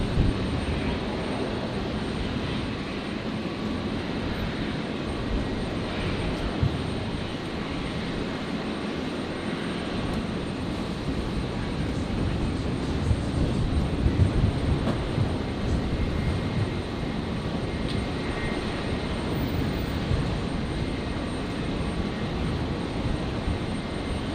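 A fixed-wing aircraft at Brisbane Airport gives a continuous broad engine roar that swells slightly partway through, heard from a distance as a steady rumbling wash with no speech.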